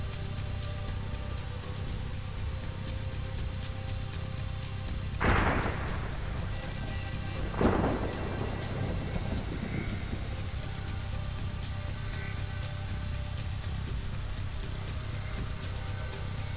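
Steady rain pours through a stormy scene in the video game Cradle, broken by two rumbling thunder strikes, the first louder and sharper than the second.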